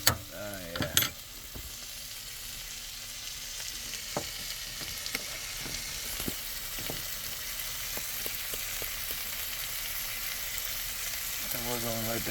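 Steak and onions sizzle steadily in a pan inside a van, a loud continuous fry with scattered pops and crackles throughout, plus a couple of brief clanks at the start.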